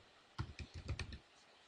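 Quick burst of keystrokes on a computer keyboard, about eight soft clicks in roughly a second, quiet and close, with no talking.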